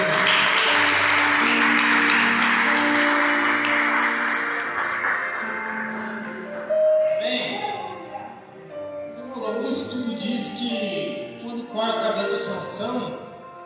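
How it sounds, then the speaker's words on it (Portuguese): Church congregation clapping during an online Assembly of God service, loud and sustained at first and then fading over several seconds as a voice and scattered sounds take over. "E as palmas para você."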